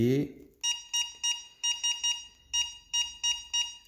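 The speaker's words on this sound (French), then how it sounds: "Le bip est assez stressant." Electronic beeps repeat in short bursts, pairs and single tones in an uneven pattern, with a brief low voice at the start.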